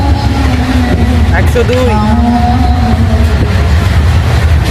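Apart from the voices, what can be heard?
Tebhaga Express LHB train running at speed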